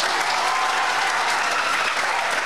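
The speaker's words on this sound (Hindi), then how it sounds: "इसके लिए ताली बजाइए" Loud, dense clapping from a room full of coaching-class students standing on their benches, a continuous close wash of many hands with no pause.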